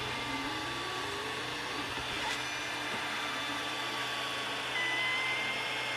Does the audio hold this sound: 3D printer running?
yes